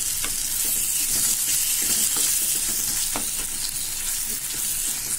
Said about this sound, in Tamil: வதங்கிட்டு இருக்கோம் நல்லா வதங்கிடுது